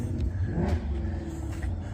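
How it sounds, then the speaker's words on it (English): A car rolls in with its engine revving, a steady low rumble that swells and eases over two seconds, fairly close, with no talk. "Always has to rev the car"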